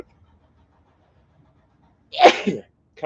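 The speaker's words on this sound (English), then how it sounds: "But I hope I'm not sneezing in your ears there." A single sharp sneeze bursts out after a stretch of near silence, close and loud, followed by the start of another sound.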